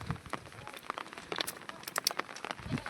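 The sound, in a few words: steady rain falling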